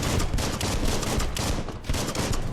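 A gun fires in the action game Biomutant. Dense, loud, close gunfire and impacts pour out almost continuously, with a brief dip near the end before the barrage resumes.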